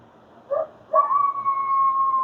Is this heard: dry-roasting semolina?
no